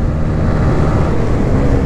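A 2020 Honda CB125R motorcycle climbs a hill at around 100 km/h, its small engine holding a steady, loud drone under dense rushing wind noise, with no talking.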